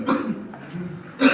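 Someone coughs as they enter a home in an AIDS-awareness drama staged for World AIDS Day, giving a couple of short close hacking coughs spaced apart, with a further harsh burst at the end.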